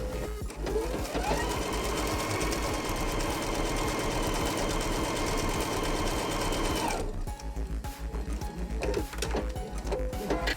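A sewing machine stitches a second line along a quilt seam for a snowball-corner half-rectangle triangle block. The motor whirs and the needle chatters steadily and close for about seven seconds, then the sound stops and leaves lighter handling noises.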